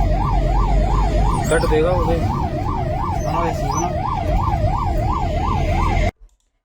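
An ambulance carrying a patient on the road from Jhansi toward Shivpuri wails with a loud, rapidly oscillating yelp siren close by, amid traffic noise and a brief voice, before cutting off abruptly.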